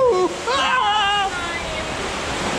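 Water splashing and rushing on the Piranha Action rafting ride at Efteling, a broad steady wash of spray heard close up, with excited voices calling out over it at the start.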